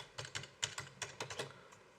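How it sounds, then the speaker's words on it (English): Someone types a password on a computer keyboard, about a dozen soft, quiet keystrokes in an uneven rhythm over two seconds, with no talking. "And then the password, I'll type in my password."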